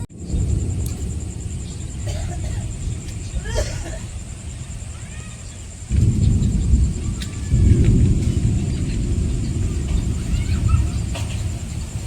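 Thunderstorm with steady rain and low rumbling thunder outdoors, a continuous broadband wash that swells louder midway and stays dense to the end, with no clear talk over it.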